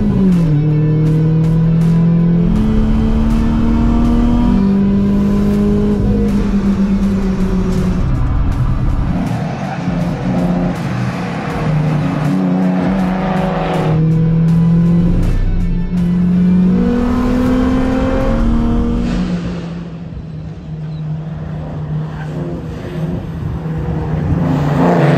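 A BMW race car at the Interlagos circuit roars loudly and continuously, its engine pitch climbing and dropping through gear changes as it drives past, then fading briefly before rising again.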